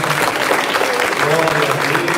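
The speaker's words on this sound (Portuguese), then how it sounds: "Vamos aplaudir ao Senhor." A church congregation applauding steadily at a worship service, a dense continuous wash of clapping with voices mixed in throughout.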